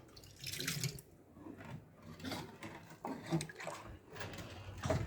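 Fresh water pours from a can into a village water tank, a quiet, uneven gurgling and splashing that swells and fades over several seconds, with faint voices around it.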